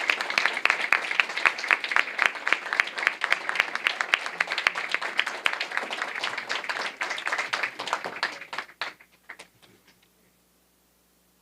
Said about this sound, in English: join me in giving Joyce Scotton a big round of applause